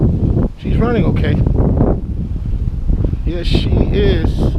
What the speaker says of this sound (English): It's windy, so sorry for the wind.